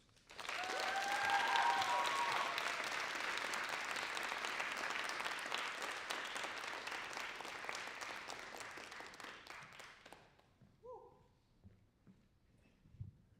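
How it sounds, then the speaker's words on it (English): Audience applause after a junior creative writing reading, a sustained burst of clapping that lasts about ten seconds before thinning to a few scattered claps and quiet room noise, with a brief whistle early on. "another round of applause for this group"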